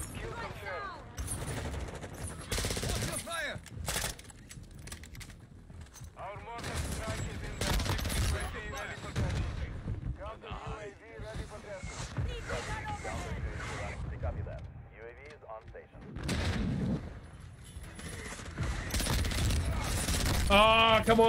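Video game gunfire pours into a decoy on a multiplayer map in dense, rapid bursts and sustained machine-gun rattles, loud and continuous with brief lulls, while a voice talks over it.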